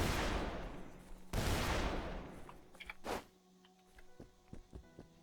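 An M90 full-auto 12-gauge shotgun in a Dead Island Definitive Edition firearms mod fires two heavy booming blasts about a second apart, then a sharper crack follows. Faint mechanical clicks trail off afterward, all fairly quiet and distant.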